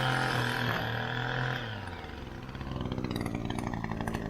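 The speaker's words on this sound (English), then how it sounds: "flip the trimmer around, do my 3-point hold, and start edging all the beds" A string trimmer edges a customer's lawn with a loud, buzzing two-stroke whine that starts strong, dips briefly, then revs back up in pulsing bursts nearby.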